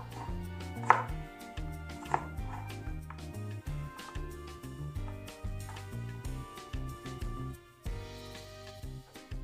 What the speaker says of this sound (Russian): пластинки, друзья, в свою очередь мы нарезаем вот на такую вот меленькую соломочку.